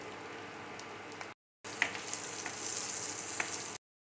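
Onion, green chillies and curry leaves fry in oil with cumin and mustard seeds, giving a dense, continuous sizzle that breaks off briefly and then resumes with a few crackles and spoon scrapes.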